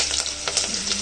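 Onion and green chilies fry in hot oil in a home kitchen while a fish curry is being made. A close, steady sizzle carries faint stirring scrapes, and no talking is heard.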